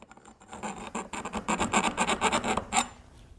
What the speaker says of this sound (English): this is a half round file